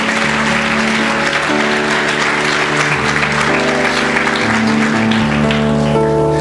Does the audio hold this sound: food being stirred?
no